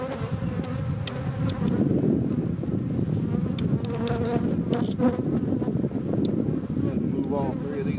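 Honeybees from a weak hive buzz close around the microphone in a dense, continuous hum, with wind noise and an occasional voice underneath.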